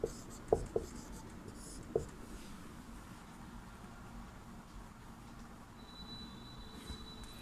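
Pen or chalk scratching out a letter during a Hindi class, a few quick taps early and then faint steady writing strokes under a low hum, no speech.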